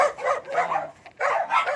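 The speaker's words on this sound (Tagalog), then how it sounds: "pag nag-inspection tayo ng bahay, daming aso" Several dogs at a house bark and yelp in two loud bursts separated by a short pause, fairly close by, with no talking.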